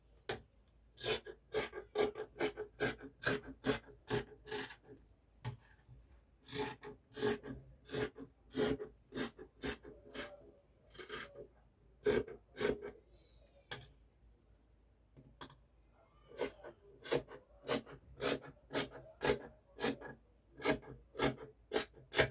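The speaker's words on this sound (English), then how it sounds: "now I'm going to go ahead and cut this piece out" Scissors cut out a fabric piece for a gathered gown, short bursts of rhythmic snipping and crisp blade strokes broken by brief pauses, close and clear with no speech.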